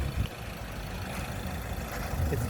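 A Mitsubishi 4B40 1.5 litre four-cylinder turbo petrol engine from a 2017 Eclipse idles steadily, a low, even rumble with a faint mechanical hum and no speech.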